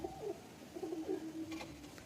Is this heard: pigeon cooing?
yes